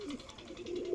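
Breeder pigeons from a golden female and teddy male pair coo softly in a few repeated low pulses, fairly close, without talk.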